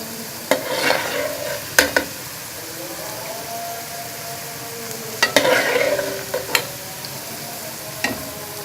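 Okra sizzling in hot ghee in a pan as it is stirred and lifted out, with soft frying crackle, scraping clicks and a few spoon knocks, close up.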